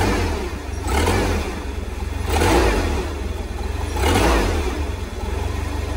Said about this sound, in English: I can bump the throttle by hand.